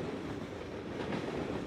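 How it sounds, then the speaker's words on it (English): A train passes by in the video game Drug Dealer Simulator, producing a steady, heavy rumble with rattling clatter that fills the short moment at a constant, fairly loud level. "does the whole neighborhood shake because of a train that's coming by?"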